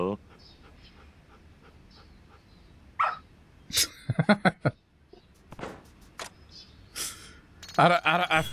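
A dog in the video game Like A Dragon: Ishin! gives a few sharp barks and yips, close and fairly loud, over a quiet stretch. Brief speech-like sounds are mixed in near the end.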